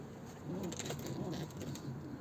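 Soft, low coos of a yellow-barred Sabuni pigeon in a coop repeat a few times nearby against a faint hiss of background noise.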